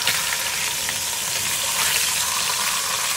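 Pork chops fry in a pot after being turned over, a loud, dense, continuous sizzle with crackling hiss and no talking.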